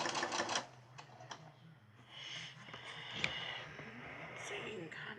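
A sewing machine back stitches along the edge of fabric for a half apron, a quick rattling run of stitches, then softer intermittent mechanical ticking close by, with light breathing in the background.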